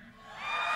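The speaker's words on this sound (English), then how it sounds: "You still going to cheer?" Audience at a fan convention community address breaking into cheers and whoops, starting faint and swelling quickly to a loud crowd roar within a second.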